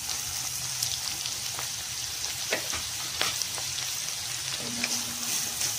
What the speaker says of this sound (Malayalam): നമുക്ക് സവാള അതിൻ്റെ അകത്തേക്ക് ഇട്ട് കൊടുക്കാം.